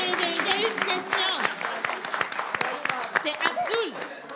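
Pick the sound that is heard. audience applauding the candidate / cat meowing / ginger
audience applauding the candidate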